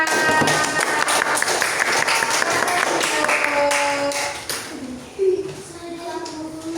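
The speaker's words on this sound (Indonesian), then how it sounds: "Tepuk tangan untuk kelompoknya" A classroom of people clapping in applause for a presenting group, brisk and scattered, fading out toward the end, with some voices mixed in.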